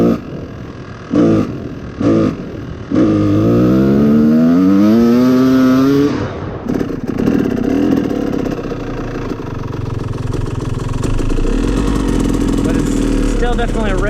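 A YZ250 motorcycle with rich-running jetting climbs a slight hill under load, its engine note rising through the gears, then settling into a steady drone, with a rider talking over it.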